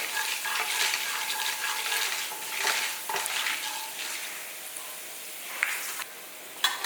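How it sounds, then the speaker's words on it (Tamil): Urad dal and chana dal fry in hot oil, giving a steady close crackling sizzle with occasional stirring scrapes and no voices. "எல்லாம் எண்ணெயிலே போட்டு நல்லா பொரிய விட்டுடலாம்"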